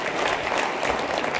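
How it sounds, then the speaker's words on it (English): Audience applause at a business event, a dense steady patter of clapping from a crowd filling the whole moment at an even level. "A big hand of applause for Ombres"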